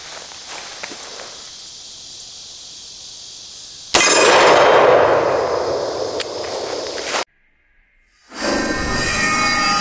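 A green tip rifle round strikes a Predator steel armor plate, giving one sharp loud impact that rings out for a few seconds, then cuts to silence before outdoor noise returns.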